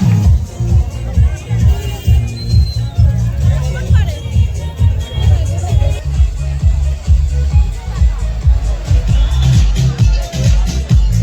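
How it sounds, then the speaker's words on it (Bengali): A dense crowd murmurs and chatters continuously, many voices blending into a steady babble that stays fairly loud throughout. "ভিড় হয় কিন্তু এরকম ভিড়টা দেখিনি এত রাতে"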